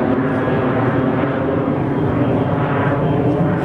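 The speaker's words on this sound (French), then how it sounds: "il y a plein d'avions, on est juste à côté de l'aéroport" Airplanes pass close by an airport in Turkey, making a steady, loud, broadband engine roar that fills the whole stretch without letting up.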